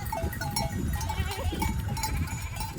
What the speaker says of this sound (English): Allow me to introduce you to one of the oldest walkers of the Appia, shepherds, and of course, sheep